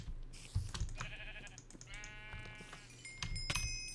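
Minecraft sheep bleat over a few seconds, several wavering bleats in sequence with light keyboard clicks beneath.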